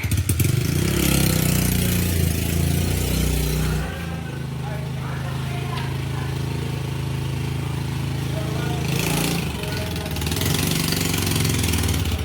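A motorcycle engine idles with a steady low rumble throughout, loud and close, briefly shifting in pitch; people talk faintly in the background.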